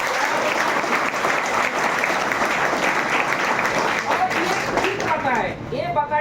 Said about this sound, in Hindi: इस पे जो है आप लोग जोरदार ताली मारिए